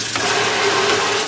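Tap water running over wild huckleberries in a strainer, a steady loud broadband hiss and splatter close up that starts within the first moment and continues without a break.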